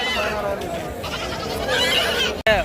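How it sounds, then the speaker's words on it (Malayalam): Goats bleat repeatedly amid a noisy crowd at Manapparai cattle market, with people talking close by throughout. "ഈ ഒരു ഏരിയയിൽ മൊത്തം ആടുകളാണ് കേട്ടോ"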